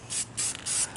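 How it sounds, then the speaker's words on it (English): Blue spray paint hissing from an aerosol can onto pinball stencils, in three steady bursts with short pauses between, fairly close and alone. "Gently spray your blue paint so it don't go crazy."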